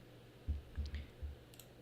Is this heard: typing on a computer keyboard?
yes